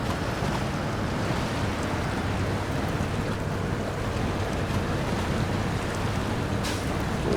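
Truck in all-wheel drive pushing through a river in SnowRunner, a steady broadband wash of churning water and low engine rumble, even and continuous throughout with no pauses.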